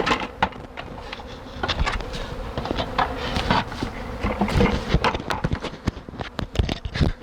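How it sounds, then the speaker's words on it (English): Honey bees buzz around an exposed hive being removed outdoors in Texas, a dense swarm hum close to the microphone, punctuated by sharp clicks and knocks of handling equipment. "Those are the bees."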